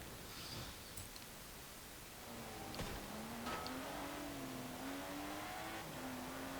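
Car engine in Forza Horizon 4 during a midnight race, a faint, steady hum whose pitch climbs and wavers as it revs, under a hissy background with occasional clicks.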